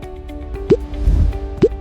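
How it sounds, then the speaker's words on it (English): Free water dripping from a soaked soil sample as the mold is lifted off during a CBR test: two distinct close drops plop about a second apart over quiet background, with a faint low rumble between them. "After 4 days, remove the mold and keep it fitted for 15 minutes to let the free water drain out."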